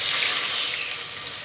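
Onions going into hot oil for a chicken biryani gravy give a steady, loud broadband sizzle that holds for the whole stretch and eases slightly toward the end, with no voices.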